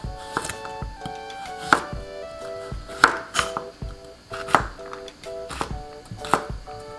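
A knife chops broccoli stems steadily against a cutting board, with firm, irregular thuds repeating every half second or so, close and fairly quiet.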